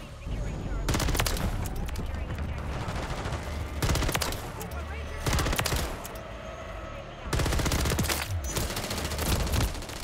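Pistol fire in Modern Warfare 3, loud rapid volleys of shots in several bursts separated by short pauses, with dense battle noise throughout.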